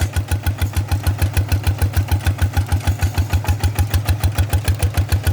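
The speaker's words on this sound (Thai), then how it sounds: "ก็ฟังเสียงเครื่องก็ออกจะหนักๆหน่อยอยู่ แต่ว่าก็ไปได้นะครับ" A small 10-horsepower RT100 engine drives a walking tractor plowing a rice paddy with two discs and steel wheels, laboring under heavy load in a steady, loud, rapid chugging beat that runs throughout with no talk.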